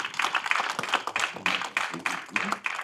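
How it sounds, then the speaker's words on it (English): Audience applause at a talk on bipolar care and family management, a modest round of clapping from a moderate-sized crowd, fairly close and steady for a few seconds with some voices mixed in. "Please have a big round of applause for Sukriti."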